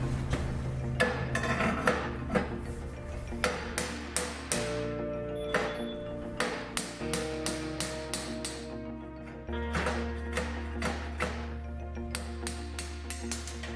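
A hammer knocks the old bearings out of a 1968 Triumph T120R motorcycle frame: a quiet, steady run of about twenty sharp metallic taps, each ringing briefly, spaced roughly every half to three-quarter second.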